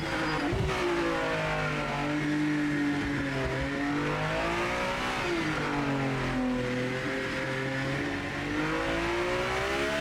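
A race car engine in the racing video game Project Motor Racing revs high and continuously. The pitch climbs and dips through gear changes, loud and unbroken, with no talk over it.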